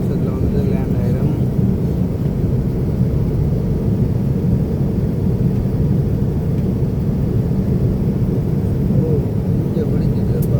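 Steady, loud low rumble of airplane cabin noise during a flight, a constant droning roar with no breaks, and no talk audible over it.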